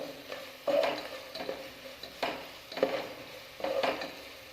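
Onion, sliced green chillies and curry leaves being stirred in a pan: repeated scraping strokes, about six bursts in an irregular rhythm, with a soft sizzle underneath, close and moderately loud, no voices.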